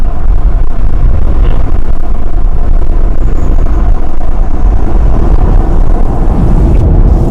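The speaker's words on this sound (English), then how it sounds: "the road noise when the windows are down." Loud, constant road and wind roar inside a 2018 Jaguar XF driving with the windows down, a dense low rumble that fills the cabin without a break and with no one speaking.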